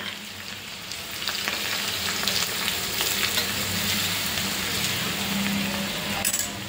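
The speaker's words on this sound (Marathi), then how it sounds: "आणि जे हिरवी मिरची, लसूण आणि जिऱ्यांची पेस्ट केली होती ती टाकायची आहे।" Green chili, garlic and cumin paste hits hot oil in a pan, giving a loud, dense crackling sizzle that swells after the first second and holds steady, with faint stirring clinks and no speech.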